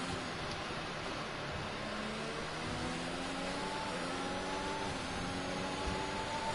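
Racing cars leave the pits in a racing video game set at the Canada round, engines revving steadily with rising and falling tones, several layered together at moderate, even loudness.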